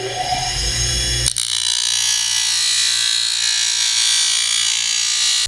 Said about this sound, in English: I'll just use my bench grinder and shave a little off the top where it says top